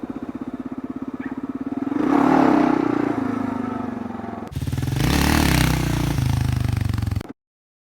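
A Kawasaki KLR650 single-cylinder motorcycle revs hard and pulls into a wheelie, a loud close engine rising in pitch, easing, then surging again before cutting off abruptly.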